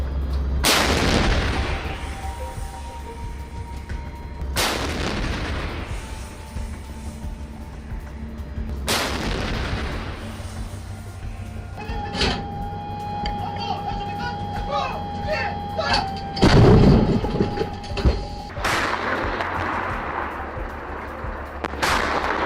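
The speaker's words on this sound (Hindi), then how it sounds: "किम की शेलिंग के बाद south Korea alert with the video" Heavy booms from North Korean artillery shelling near a South Korean island ring out at irregular intervals, several loud blasts with rumbling decay, interspersed with background voices.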